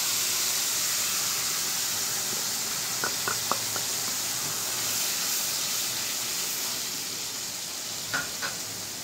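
A paste of poppy seed, mustard, ginger and chili with turmeric fries in a pan, giving a steady, close hiss and sizzle broken by a few faint clicks of stirring.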